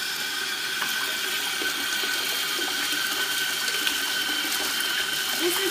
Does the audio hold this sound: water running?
yes